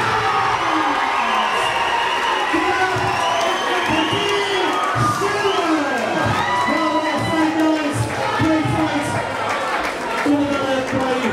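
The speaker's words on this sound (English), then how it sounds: "Lots of punches thrown there by both fighters as the crowd shows their appreciation" A boxing crowd at a Carl Ross versus Dean Stewart fight cheers and shouts loudly after the bout, a dense, continuous roar of many voices with whoops rising above it.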